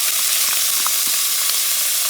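Sofrito hits hot annatto oil with a loud, close, steady sizzle and crackle, with small pops scattered throughout.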